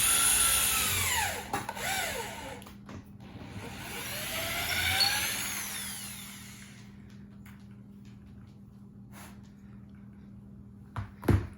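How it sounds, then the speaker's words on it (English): A power drill whirs steadily for several seconds as it bores upward into a tree trunk for sap tapping, the pitch rising and falling, then cuts off leaving quiet with a few clicks. "Make sure your drill is pointing upwards so gravity will work for you and flow the sap."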